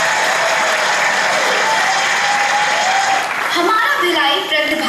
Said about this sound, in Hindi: इन जिम्मेदार महिलाओं के लिए जोरदार तालियां तो बनती ही हैं